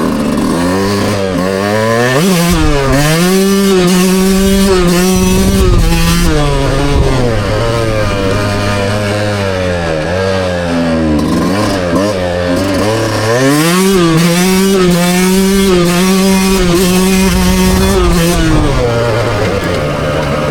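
Yamaha YZ125X two-stroke dirt bike with a Stic Super Torque carb, accelerating hard through the gears: loud, buzzing engine notes that rise in pitch and drop sharply at each shift, repeating across several gear changes.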